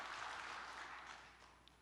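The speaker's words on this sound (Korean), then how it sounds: "하나님께 영광의 박수를 먼저 돌려드립니다." A church congregation applauds in a steady, even wash of clapping that fades slightly toward the end, with no voices over it.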